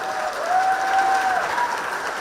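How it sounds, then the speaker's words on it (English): A conference audience applauds a speaker taking the stage at a Salvadoran tech event, producing loud, sustained dense clapping from a large crowd that fills the room evenly throughout. "Big round of applause to Reyna Chicas"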